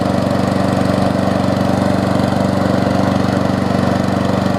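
A Weed Eater VIP push mower with a Briggs Quantum engine runs steadily up close, a loud, even chugging drone that holds without change.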